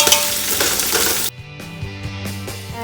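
Onions sauté in a pan for chicken biryani with a loud, dense sizzle that cuts off abruptly after a second or so, followed by soft background music.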